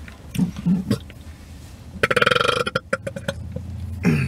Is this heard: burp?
yes